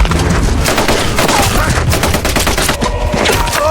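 A war film scene with a dense fusillade of gunshots from several soldiers, loud and continuous throughout with overlapping rapid shots.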